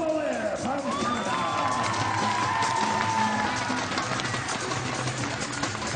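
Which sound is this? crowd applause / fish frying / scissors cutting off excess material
crowd applause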